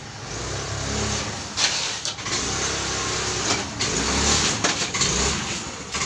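A Hero Maestro scooter after a piston ring repair, test-run inside a workshop, its small engine revving and idling close by with uneven surges and a few sharp knocks.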